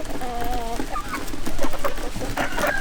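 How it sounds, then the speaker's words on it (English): An adult Ancona bantam hen clucks close by in a short run of throaty, repeated calls over steady barnyard noise. "This is also an adult Ancona bantam hen."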